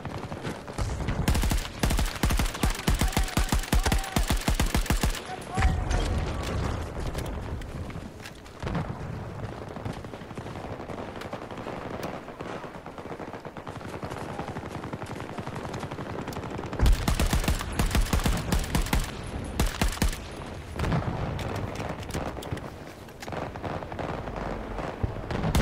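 Sustained bursts of automatic gunfire and heavy blasts from the Battlefield 2042 video game, loud and dense, easing into quieter stretches before more rapid firing returns.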